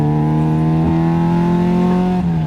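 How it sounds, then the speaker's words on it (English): A Honda Del Sol's F20B engine accelerates hard as VTEC engages, a loud, close, steadily climbing engine note with strong harmonics that holds for a couple of seconds before a slight dip near the end. "As soon as VTEC hits, you just notice."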